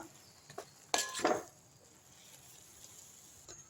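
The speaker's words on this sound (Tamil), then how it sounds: "நல்லா கிண்டி விட்டுடலாம்." Leftover idiyappam kichadi stirred in a pan, with a few soft scrapes and then two sharp clinks of a spoon against the metal close by, followed by quiet.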